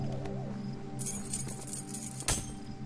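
A key ring picked up in the video game The Talos Principle gives a short, bright metallic jingle of keys, with a second brief clink a moment later, over quiet ambient music.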